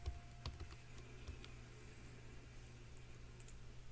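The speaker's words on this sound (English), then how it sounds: "I'm going to type live." Computer keyboard typing, a run of quick, light key clicks at an uneven pace over a steady low electrical hum, fairly quiet and close, with no talking.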